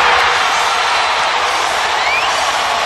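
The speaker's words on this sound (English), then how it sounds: "Listen to the crowd." Dense, roaring crowd cheering at an NBA Thunder game against the Mavericks after a Russell Westbrook play fills the whole stretch, loud and steady with no break.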